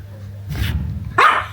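A dog barking outdoors while digging, two short barks close by, the second louder and higher, over a low background rumble.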